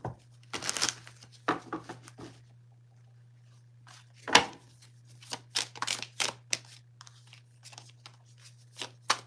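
Tarot cards shuffled and pulled close up, with crisp papery riffles and flicks in irregular bursts, some louder slaps, over a steady low hum and otherwise quiet room.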